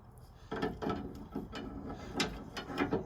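An adjustable wrench works a lock nut on a traction bar fitted to a 12V Cummins truck, giving irregular metallic clicks and scraping bursts at close range, with no talking.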